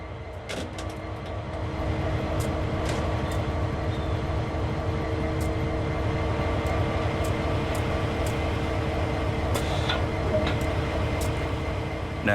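A diesel locomotive idles steadily beside a fuel rack on the Clinchfield Railroad in Train Sim World 2, a constant low engine drone with faint clicks and clanks scattered over it.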